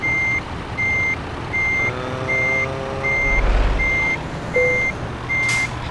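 Truck reversing in Euro Truck Simulator 2 in the snow: a steady run of evenly spaced, high, clear beeps over a low engine rumble, with a brief hiss near the end.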